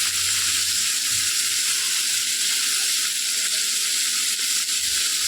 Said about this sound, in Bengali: আমি এখানে ক্যাপসিকাম আর পেঁয়াজটাকে ভালো মতো ভেজে নেবো